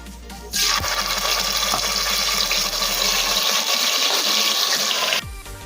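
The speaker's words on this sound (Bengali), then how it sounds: "ফোড়ন ভাজা হয়ে গিয়েছে এখন দেবো ম্যারিনেটেড চিকেন" Marinated chicken hits hot oil already sizzling with whole black pepper, cloves, cardamom and cinnamon for Mughlai chicken, bursting into a loud, steady sizzle that holds for about four and a half seconds and then cuts off, with no talking.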